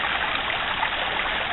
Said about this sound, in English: a little creek fell into it